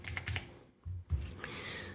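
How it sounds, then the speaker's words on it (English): Quick bursts of typing on a computer keyboard while a search term is entered into a web-based media manager, clustered keystrokes with a brief pause in the middle, close and clear. "we type in pepperoni here"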